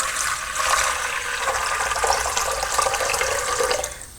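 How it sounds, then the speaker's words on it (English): Tap water pours steadily into an Umbra FishHotel betta tank, a continuous close splashing and gurgling stream that runs on without a break. "I'm just going to pour the regular tap water in here."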